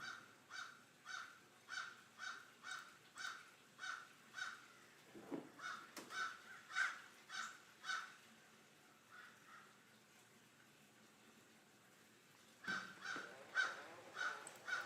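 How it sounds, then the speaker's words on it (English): A crow caws in a long rhythmic series of regular harsh calls, pauses, then resumes with another burst, fairly close and clear over a quiet background. "Crow's laughing at me."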